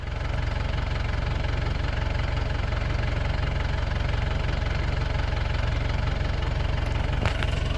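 A tractor engine idles on a hay farm with a steady, loud, low diesel chug and a knocking rhythm that stays even throughout, with a brief click near the end.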